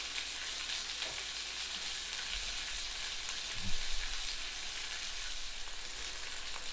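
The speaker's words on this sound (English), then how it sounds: "Listen to that sizzle." Steaks sizzle steadily in a hot pan, a soft continuous crackle with a brief low knock partway through.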